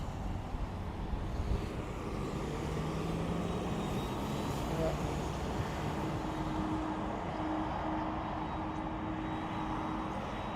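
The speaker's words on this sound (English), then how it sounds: "Looks like we're going to have Flair Airlines going to Halifax, 737 MAX 8." Flair Airlines Boeing 737 MAX 8 jet at Toronto airport, a steady distant engine roar mixed with traffic rumble, continuous and fairly faint throughout, with people talking over it.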